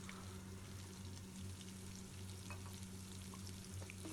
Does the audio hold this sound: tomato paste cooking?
yes